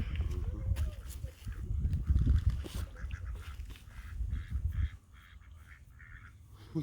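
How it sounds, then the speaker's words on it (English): Ducks on a pond while someone brings them food, soft scattered quacks and honks mixed with outdoor rustling and people talking nearby, quieter toward the end. "The quack quacks know what's up."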